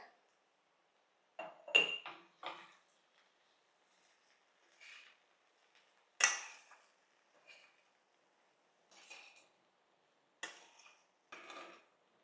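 Sushila, a puffed-rice dish, being mixed with salt in a pan in a home kitchen: scattered clinks and scrapes of a spoon against the pan in short irregular bursts, with quiet gaps between.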